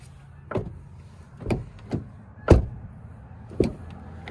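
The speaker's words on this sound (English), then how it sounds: "Listen to the sound of the doors." Five doors of a 2020 Honda CR-V EX-L AWD thud shut one after another, each a solid, close, low slam with short pauses between them.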